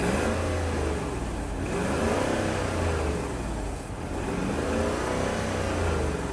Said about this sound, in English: I can rev it. Revs fine.